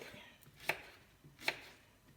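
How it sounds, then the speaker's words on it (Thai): A knife slices through a young pumpkin on a cutting board. Two crisp, separate chops land about a second apart, close and fairly quiet, with faint room noise between them. "หั่นหั่นหั่น เราจะหั่นเฉียงนี้ก็ได้นะคะ"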